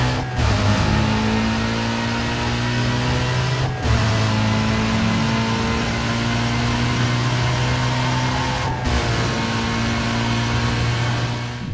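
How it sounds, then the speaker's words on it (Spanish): A BMW M3 E46 with a V8 engine revs hard and holds a loud, steady mechanical roar. Brief dips suggest quick shifts or lifts of the throttle, and the sound stays close and sustained. "os habéis enamorado al oír este V8"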